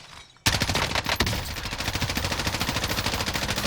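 Rapid automatic gunfire in a first-person shooter, loud and close, a steady rattling burst of evenly spaced shots that starts abruptly after a brief quiet moment and keeps going without pause.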